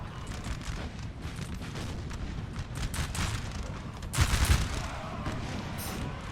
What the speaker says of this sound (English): that's 2 volleys already for the French 1 volley. They are firing so fast.